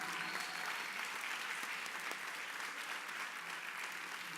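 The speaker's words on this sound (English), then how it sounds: "Give them a round of applause." A school concert audience claps for orchestra students, a soft, distant, steady round of applause that holds evenly from start to finish.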